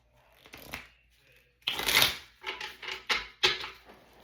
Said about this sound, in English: Shuffle twice.